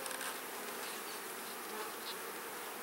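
Honey bees swarm and buzz around an opened hive during an inspection of a new colony, a steady dense drone filling the air close by without pause.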